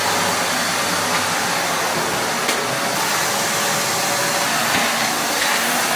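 A vacuum cleaner runs without pause for the whole stretch, giving a steady, even whooshing roar with a broad hiss and no clear breaks or voices.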